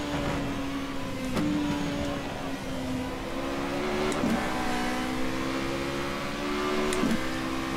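A Formula Renault 3.5 open-wheel race car in rFactor 2 at Silverstone, its engine whining steadily through upshifts with rising pitch sweeps and sharp gearchange breaks, heard from onboard at moderate level with no talk.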